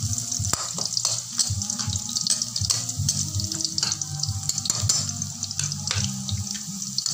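Garlic fries in a pan with a steady, dense sizzle and crackle throughout, and a few sharp clicks and knocks stand out now and then.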